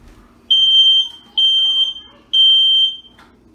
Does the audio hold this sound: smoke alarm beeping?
yes